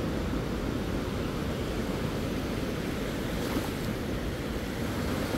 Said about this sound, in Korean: 파도가 너무 실감이 없습니다.